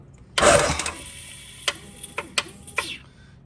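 A two-stroke jet ski starter, not yet bolted in, gives a loud initial crank as the engine turns over, followed by a few scattered clunks and short whirring bursts, close by with no talk.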